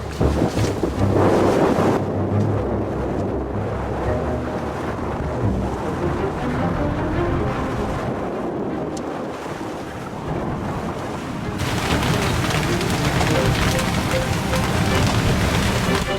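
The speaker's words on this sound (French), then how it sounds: "Le vent s'est levé, pour l'instant il y a 18 nœuds." A wind and rain squall at sea aboard a sailboat crossing the Pacific, wind around 18 knots: a dense, steady roar of gusts and rain that grows harsher and hissier toward the end.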